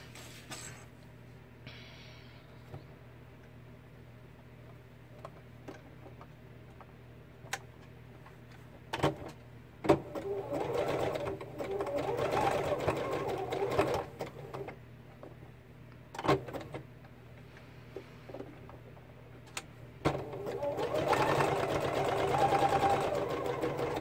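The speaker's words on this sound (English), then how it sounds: "I don't know how well this is working because I know you can't see me sewing" A sewing machine stitching a scrap of fabric as a patch, with intermittent whirring runs of motor and needle that build in loudness, separated by quieter pauses and small clicks.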